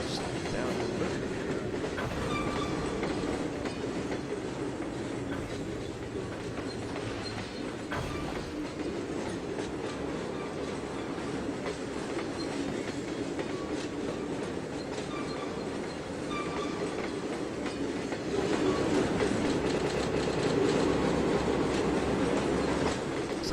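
A CSX-BNSF freight train rolls slowly through a rail yard in the Trainz model railroad simulator, with a steady rumble and rhythmic clickety-clack of wheels that continues throughout and grows slightly louder near the end.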